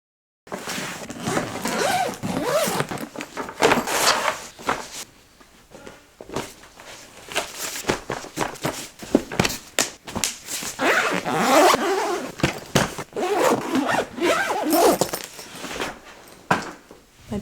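A packed suitcase for a two-night stay is zipped shut, with repeated close scratchy zip pulls and rustling and handling bumps, some pauses between them, and no talk.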